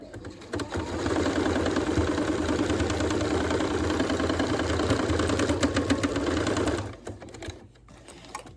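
A sewing machine stitching clips onto a yard flag, running in a steady fast mechanical whir for several seconds before stopping abruptly, then faint handling noise.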